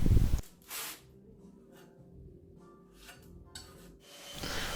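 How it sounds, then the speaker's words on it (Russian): Wood putty spread over screw heads on a homemade wooden sofa frame, a soft scraping rub in a few short strokes, close and fairly quiet, with a louder knock at the start. "шляпки саморезов, замазываю шпатлевкой по дереву."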